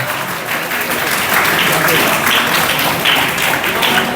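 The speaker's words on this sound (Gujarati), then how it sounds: "જોરદાર તાળીઓથી એમની સેવાને આપણે ખરેખર નતમસ્તક વંદન કરીએ" Loud, sustained applause from a crowd at a village community event in Umrala, dense steady clapping that swells slightly and holds, with a voice faintly beneath.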